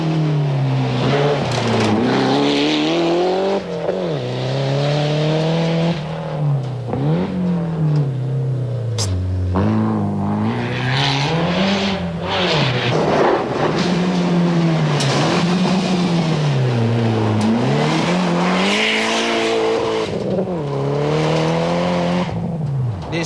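A 1992 rally car driven by a Dutch crew on a special stage of the Rally of Malaysia, its engine loud and close, rising and falling through repeated gear changes and hard revving throughout.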